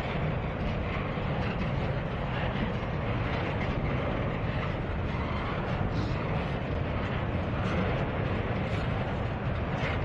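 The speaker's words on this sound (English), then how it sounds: "Wow, this is a long stack train." A long Norfolk Southern container stack train rolls steadily past, a continuous loud rumble of railcars with faint clickety-clack on the rails, with no voices.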